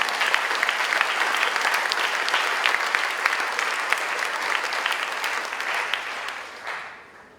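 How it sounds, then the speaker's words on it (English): A graduation ceremony audience claps, a dense sustained round of applause from a large crowd that holds steady, then tapers and fades out near the end. "I think we owe him a round of applause for that."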